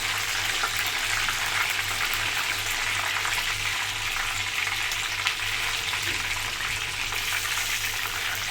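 Tilapia frying in oil in a pan, a steady close hiss and crackle of sizzling that holds evenly throughout with no talking.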